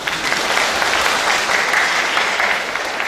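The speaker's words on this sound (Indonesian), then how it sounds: "Tepuk tangan." Steady, dense applause from a church congregation at an Easter service, a full room of hands clapping continuously and fairly loud with no pauses.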